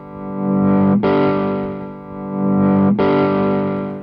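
An electric guitar plays through a Sawtooth 20 watt tube amp set to overdrive. Two long, loud, distorted chords ring out one after the other, each sustaining for about two seconds with a brief break between them.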